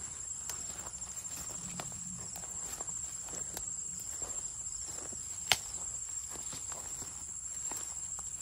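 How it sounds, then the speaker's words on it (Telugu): Night insects in a forest keep up a steady high-pitched chirring drone throughout, with faint rustles and occasional soft footstep-like taps beneath it and one brief sharp click partway through. "పురుగులు ఎక్కువ ఉన్నాయి ఇక్కడ."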